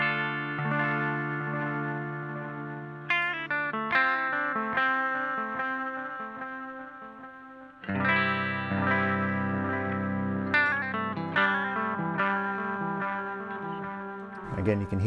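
Electric guitar through a Boss DM-2W delay pedal set for an ambient delay plays melodic lines whose repeats trail behind each note, layered and reverberant, with no one talking.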